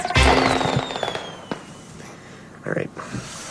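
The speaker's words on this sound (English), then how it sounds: "Why aren't you doing the fireworks, man?" Fireworks burst close by with a loud crackling blast at the start, then a few sharper pops and a crackle later on. A voice talks over the bursts.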